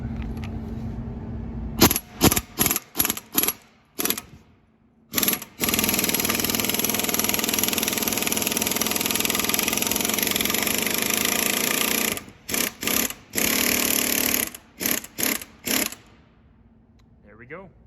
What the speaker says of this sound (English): just use the same impact you use to take out the crank bolt